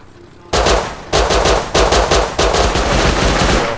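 Sniper rifle gunfire in the survival video game Rust: four or five loud, sharp shots spaced roughly half a second apart, each cracking sharply and then leaving a dense, noisy tail, with no talk.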